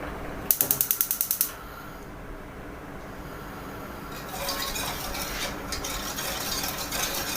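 Gas stove burner being lit, a quick run of about eight sharp igniter clicks, then a soft steady hiss of gas flame that swells a little louder after a few seconds.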